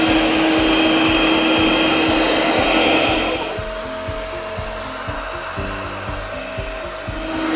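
The Lefant M320 robot vacuum cleans close by under a couch with a loud, steady whir. Its brushes keep up a regular ticking rhythm, and the motor pitch drops partway through as it moves underneath.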